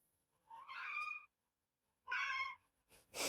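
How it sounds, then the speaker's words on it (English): A cat meows twice in the background of an indoor room, two drawn-out calls about a second long each with a short pause between, followed by a soft rustle. "Sorry for the cat in the background."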